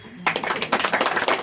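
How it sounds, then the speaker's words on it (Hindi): An audience claps at a spiritual class gathering in Nira, Maharashtra, starting suddenly and continuing as steady, fairly close applause for over a second. "ताली नहीं बजाए आप लोगों ने?"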